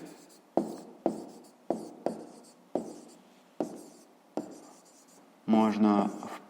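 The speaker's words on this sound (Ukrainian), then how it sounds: "пишемо в комірку" Pen writing numbers into a cell on paper for a fifth-grade maths exercise, heard as a series of about eight short scratchy strokes, close and fairly quiet, with a brief louder burst near the end.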